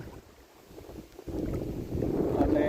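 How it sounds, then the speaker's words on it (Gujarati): Wind picks up outdoors on a rainy day near water, rumbling and buffeting against the microphone. It starts low, then grows into a steadier, louder gusting roar. "જો વળી પવન ઉપડ્યો છે"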